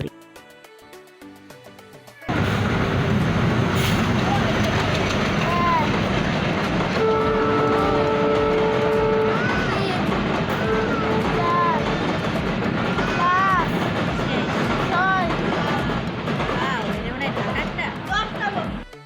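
A train rumbles past close by, loud and continuous, with wheels clattering and a horn sounding partway through; faint voices of onlookers are underneath.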